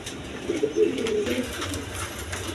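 A pair of Dudh Khaki pigeons sitting on two eggs give low, soft rolling coos close by, a short burst of throaty murmuring with faint background noise.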